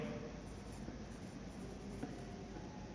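A pen writes by hand on paper while working through a chemistry exam answer, a faint, continuous soft scratching over quiet room noise.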